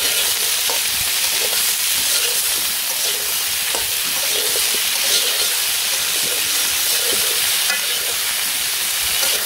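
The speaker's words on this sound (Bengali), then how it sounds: "একটু ফুলকপি ভেজে নিয়ে তারপর আলু দিয়ে দিচ্ছি একসাথে" Cauliflower and potatoes fry in a pan in a village kitchen, a steady, dense sizzle throughout with occasional stirring scrapes, close and fairly loud.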